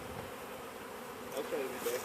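Honey bees buzz steadily as a few pounds of them are loaded into a hive outdoors, a close insect drone with soft voices murmuring near the end.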